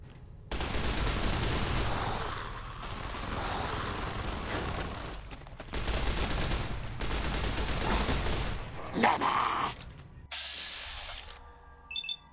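Turrets fire in bursts during a boss fight in a video game, loud rapid fusillades broken by brief gaps, then electronic beeps and a mechanical whir near the end.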